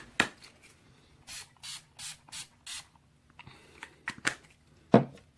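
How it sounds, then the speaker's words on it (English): A facial mist spray is pumped in a series of short, soft hissing bursts, four evenly spaced puffs and then a few quicker sprays, close and quiet in an otherwise silent room. "I'm just going to finish it off with my facial spray."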